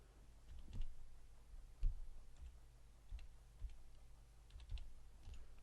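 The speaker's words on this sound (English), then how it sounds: "We type here our conclusion." Soft, scattered key taps on a computer keyboard as a short conclusion is typed, faint and close, spaced unevenly over a low steady background hum.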